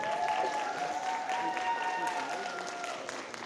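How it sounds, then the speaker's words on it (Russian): An audience at the Taiyou no Matsuri 2018 cosplay festival gives steady, dense applause with crowd noise mixed in, holding the same level throughout. "Аплодисменты."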